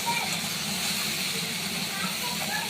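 Okra and steamed potatoes fry in a pan with a constant, close sizzling hiss that stays level and unbroken throughout.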